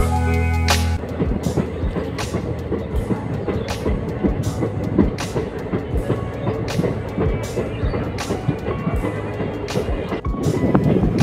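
A DMU train runs along the New Coochbehar–Dhubri line in Assam, its steady rumble broken by repeated rhythmic clickety-clack from the rail joints, loud and continuous throughout.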